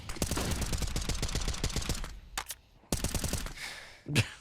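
Automatic rifle fire in Counter-Strike: Global Offensive rattles in fast, close, loud bursts of evenly spaced shots, breaking off into a few single cracks before another quick burst and a final heavier report.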